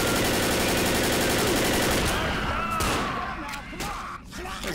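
Rapid, loud automatic gunfire bursts dominate in Left 4 Dead, a dense rattle that thins into scattered shots and rumbling by the end.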